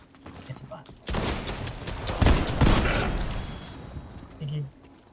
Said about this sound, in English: Oh, he's shooting me.